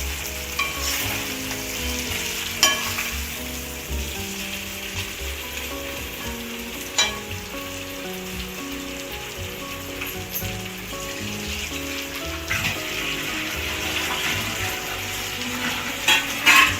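Fried catla fish pieces go into a pan of hot oil and thecha masala for a Maharashtrian fish curry, sizzling steadily and loudly up close with occasional stirring scrapes and spatters throughout.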